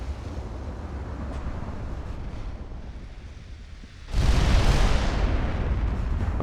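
Heavy naval guns boom in Ultimate Admiral Dreadnoughts, a low sustained rumble that jumps to a louder, broad roaring blast partway through and then holds, with no voices.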